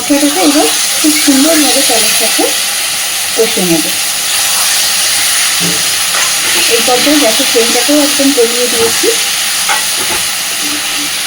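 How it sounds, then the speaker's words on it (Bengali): A ground paste of onion, ginger, garlic and tomato sizzles loudly in a pan as it is sautéed and stirred for a fish-head rice dish, a steady frying hiss beneath a woman's speech. "পেঁয়াজ আদা রসুন আর টমেটো আমি একসাথে বেটেছি মশলাটাকে এবার খুব সুন্দরভাবে সবার সাথে কষে নেব"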